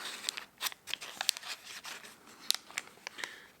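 Crinkly tearing and crunching of cardboard toy packaging in a string of sharp, close bursts, with short pauses between pulls and no talking.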